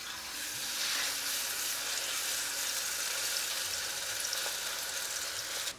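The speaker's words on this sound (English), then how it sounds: "So a nice hot pan, just gonna take a couple of tablespoons of olive oil and going to cook this very quickly." Flattened chicken fries in a couple of tablespoons of olive oil in a hot pan, giving a steady close sizzle and crackle that runs unbroken for several seconds with no voices.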